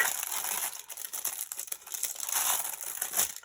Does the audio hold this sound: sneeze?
no